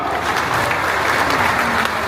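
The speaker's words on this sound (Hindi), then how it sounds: "एक बार जोरदार तालियां आपकी" Loud, dense audience applause fills the whole moment at an honouring ceremony for guests at Jatela Dham, steady and close without a break.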